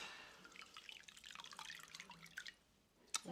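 Water drips and trickles close by during a morning skincare routine, a soft, quiet run of small droplets and splashes ending in one slightly sharper drip.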